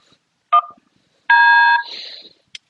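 Chorus32 FPV lap timer sounding its race-start countdown: a short electronic beep, then a longer, louder tone, followed by a faint chirp, in an otherwise quiet room.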